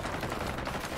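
Rapid automatic gunfire from the video game Warzone crackles in a dense, continuous burst, loud and close, with no talk over it.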